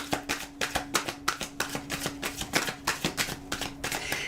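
Tarot deck being shuffled by hand during a card reading, a rapid run of soft riffling flicks and taps repeating steadily at close range against a faint steady hum.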